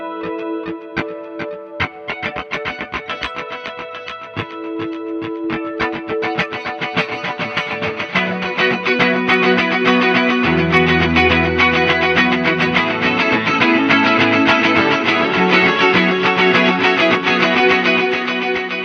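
Electric guitar plays a song through a Quad Cortex multi-effects unit, bright picked notes smeared into a dense rhythmic delay wash, with low bass tones joining partway; loud, steady and continuous with no talking.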